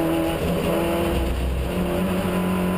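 Onboard a Robin Walker's number 77 MG race car lapping Donington Park, the engine droning loud and constant with steady pitch shifts as it holds speed, no pauses.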